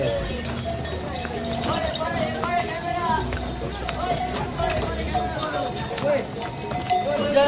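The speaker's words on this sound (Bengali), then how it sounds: "ঘোড়াগুলো এমনভাবে আসছে" Horses clip-clop steadily along the crowded Kedarnath pilgrimage trail from Gaurikund at night, hooves ringing close amid bells, people talking and general bustle.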